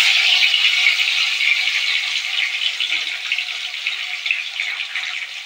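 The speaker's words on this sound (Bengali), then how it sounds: "তো আমার তেলটা গরম হয়ে গেছে। তো প্রথমে আমি দিয়ে দেবো টমেটো।" Tomatoes hit hot oil in a pan as pasta is cooked, setting off a loud, close, crackling sizzle that fades slightly as it continues, with no talk.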